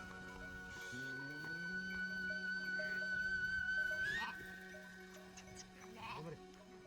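Goats bleating near a herders' camp while one animal is held by the leg and milked; several wavering bleats rise over a low steady drone, moderately distant and fairly quiet, with faint background voices.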